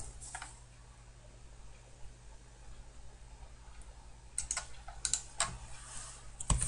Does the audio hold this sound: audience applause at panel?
no